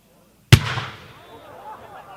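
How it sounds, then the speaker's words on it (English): A blue mine firework with brocade comet fired at an outdoor product demo: one sharp, loud burst launches it, then a crackling shower trails off over a couple of seconds, with faint voices in the background. "Blue mine,"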